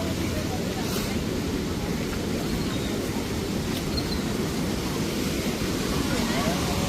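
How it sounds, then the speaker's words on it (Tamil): Floodwater rushes out of the Iranaimadu reservoir tank as a loud, steady, broadband roar of churning water that stays even throughout, with wind buffeting the microphone. "பாருங்க தண்ணி எப்படி போகுதாண்டு"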